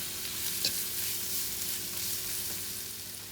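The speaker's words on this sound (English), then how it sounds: "now I'm going to add the potatoes and just mix them well" Potatoes being stirred into very hot spiced oil in a pan for samosa filling give a soft, continuous sizzle with a faint utensil tap or two. The sound is fairly quiet and steady, with no speech.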